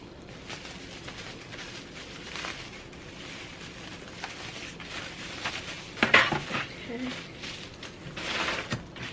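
A metal rotisserie rack is taken from a newly unboxed appliance. It gives light clinks and scrapes with one sharper metallic clatter near the end, alongside rustling, while a person talks.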